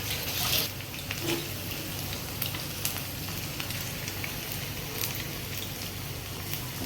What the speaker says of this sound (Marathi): बघा मी कशी फ्राय करते